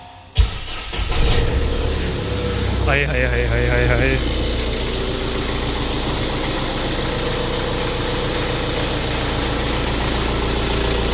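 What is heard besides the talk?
diesel car engine starting and idling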